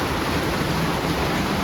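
Heavy rain pouring steadily in Kishoreganj, a dense, even hiss of falling water at moderate level with no breaks and no voices.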